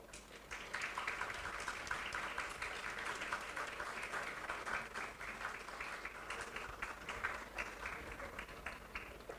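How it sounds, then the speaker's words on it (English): Students at a university law lecture applaud together, a dense, even patter of clapping that swells in quickly and carries on steadily at a fairly distant, quiet level. "Students, please clap."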